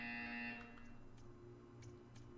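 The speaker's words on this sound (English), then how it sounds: "When you hear the buzzer, stare at the art." Buzzer in the video game Portal 2, a short harsh electronic tone sounding for about half a second and then cutting off, leaving faint low background hum.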